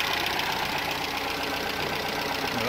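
A car engine idles steadily just after its first start in a while, with a rapid, even tappet ticking running through the smooth hum, close and alone.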